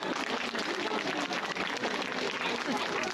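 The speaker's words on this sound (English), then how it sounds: "round of applause" A rodeo audience at an Indigenous night event claps in a steady, sustained round of applause, a dense wash of hand claps that carries on evenly throughout.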